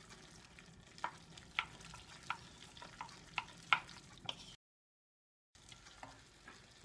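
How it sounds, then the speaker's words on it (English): A spoon stirs flour into a lamb cobbler mixture in a pan, producing soft scraping strokes with a few sharper clicks against the pot and a light sizzle underneath. A short silent gap falls near the end before stirring resumes. "Mix that in well so that it forms a thickish paste."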